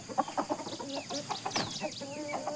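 A rooster on a farm garden plot gives a run of clucks and short calls, fairly close and quiet, with no speech over it.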